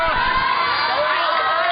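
A crowd at a speed climbing World Cup event in Chongqing, China cheers and applauds continuously, with whoops and shouts over a steady broad roar.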